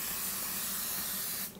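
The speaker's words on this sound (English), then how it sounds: "I'm going to spray my waffle iron, and this happens to be a butter tasting spray" Butter-flavored cooking spray hisses steadily from a can onto a waffle iron in one continuous close burst that cuts off abruptly near the end.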